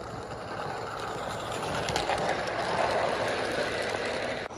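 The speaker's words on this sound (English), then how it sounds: "a parade of formerly 3-rail toy trains, now operating on battery on 2 rails outdoors" Small motors whir steadily with a continuous rattling rumble as battery-powered toy trains, converted from 3-rail, roll along a 2-rail garden railway track outdoors, with no voices.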